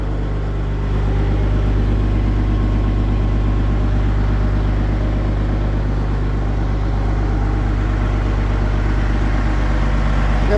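A Kenworth truck with a Cat diesel idles steadily after a cold start, a loud, constant low rumble with a faint high whine above it, continuous with no talk.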